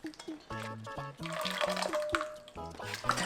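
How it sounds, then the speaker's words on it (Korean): Blanched spinach rinsed in cold water: gentle splashing and sloshing in a bowl while a voice talks over it, with faint drips in between. "찬물에 한번 헹궈줄게요"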